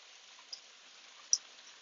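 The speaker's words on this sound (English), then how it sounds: "It's hailing really bad." Hail falling outside during a storm, a steady faint hiss of small impacts with a couple of sharper single ticks standing out briefly.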